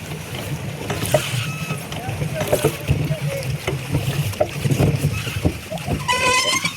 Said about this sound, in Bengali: লেকের মধ্যে আসলে আমরা বোট চালাচ্ছি